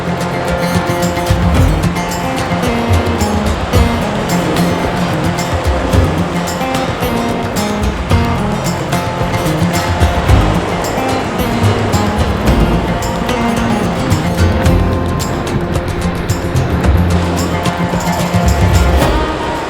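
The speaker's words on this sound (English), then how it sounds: "Bailey Rapid, class 3." Class 3 whitewater at Bailey Rapid on Idaho's Salmon River roars as a loud, continuous, churning rush of water that stays steady throughout, with no clear voices.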